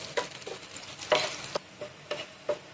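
Onion, dried red chili and chopped garlic frying in a pan for dal, a soft background sizzle broken by several sharp stirring scrapes and taps of a spatula, no one speaking.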